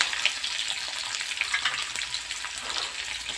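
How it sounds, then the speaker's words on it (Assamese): Five-spice seeds, bay leaf and onion sizzle in hot oil in an iron wok, a dense, steady hiss of frying heard close up with occasional pops and no talking. "অকণমান পাঁচফোৰণ তাৰপিছত দিম মই এয়া তেজপাত এয়া পিঁয়াজ"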